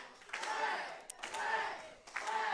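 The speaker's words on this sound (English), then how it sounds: "They're standing, applauding someone that hit a man with a kendo stick in the middle of a match." A wrestling crowd at an SICW All-Star Wrestling show stands and applauds, a loud, continuous wash of clapping and cheering with a voice audible over it.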